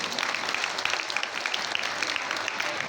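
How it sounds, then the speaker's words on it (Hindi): An audience at a temple cultural festival claps after a drama performance, a steady patter of applause heard from a distance. "तो जोर से तालियां, जोर से।"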